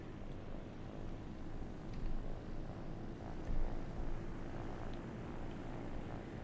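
Steady, droning whir of helicopter rotor blades spinning in a space-building video game, a continuous engine-like hum that holds level throughout, with no talking.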